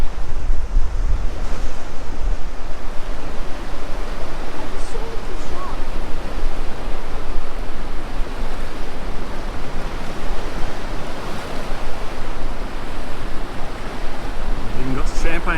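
Steady broadband roar of ocean surf washing against a rocky coastline with rock pools, continuous and fairly loud with wind buffeting the microphone throughout, no pauses in the wash.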